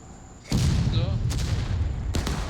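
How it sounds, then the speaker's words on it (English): Civil War cannon fire in the War of Rights game, a sudden loud boom followed by a sustained low rumble, then two more sharp blasts over continuing heavy battle noise. "Cannon now from CSA's side of the river trying to find its way into this rally point"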